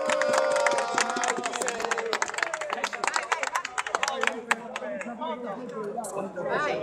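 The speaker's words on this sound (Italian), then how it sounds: "Applauso" Applause from a crowd at a regional council protest rally: sustained clapping from many hands with voices mixed in, loud at first and thinning into scattered claps.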